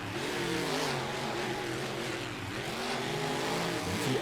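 Race cars accelerate together at the green flag of a race in Detroit, a loud, sustained mid-pitched engine roar with shifting revs throughout, no talk over it.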